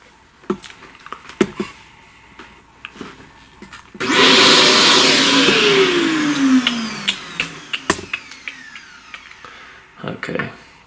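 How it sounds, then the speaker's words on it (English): A vacuum cleaner draws up pastel chalk dust from a drawing, a steady loud whooshing roar with a falling tone that runs several seconds, framed by taps and rustles of chalk work before and after. "Let's vacuum some of that."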